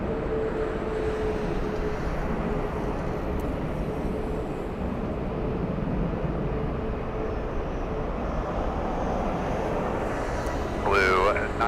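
A Delta airliner on its takeoff roll from runway 24 left at LAX gives off a broad, steady roar that holds at an even level for the whole span, heard from a distance, with a brief voice at the very end.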